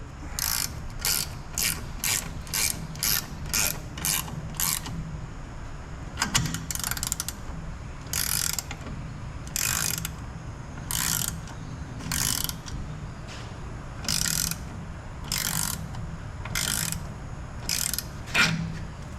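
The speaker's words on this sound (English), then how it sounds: "so this is just a through ratchet" Ratchet wrench turning a fastener on a 1996 Ford F350 truck, a rapid clicking pawl in repeated bursts with short pauses between strokes, close and fairly quiet, with no voices.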